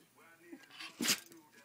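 One quick sneeze cuts through soft talking nearby, brief and fairly loud against the quieter voices.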